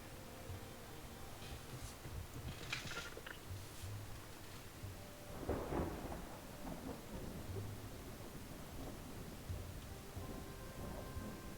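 Heavy rain and thunder in the video game Dustland Delivery: a steady wash of rain noise with low rumbling thunder rolling underneath and a few brighter crackles, faint and continuous.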